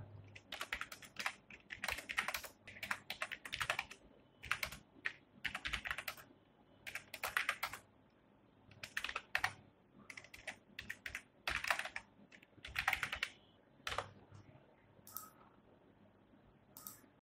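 Typing on a computer keyboard while entering a note into an Excel spreadsheet cell, close clicky bursts of keystrokes separated by short silent gaps.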